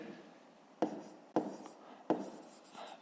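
Pen writing on paper during a fifth-grade math exercise: three sharp scratchy strokes spaced across a few seconds, close and fairly quiet, with no talking.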